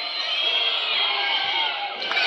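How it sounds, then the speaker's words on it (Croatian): A dense stadium crowd roars and whistles continuously during a penalty kick at a Serbian league match, a loud, sustained wall of cheering and shouting with no pauses. "I sad evo, ceo stadion navija da ga promaši"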